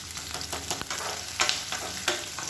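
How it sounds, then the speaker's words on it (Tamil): Onions sauté in a pan for a vegetable kurma, a steady close sizzle with occasional louder spatters and stirring scrapes, no voices. "இப்போ வெங்காயம் லேசாக வதங்கிடுச்சு"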